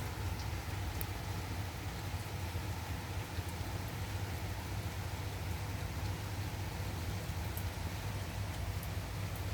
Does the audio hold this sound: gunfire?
no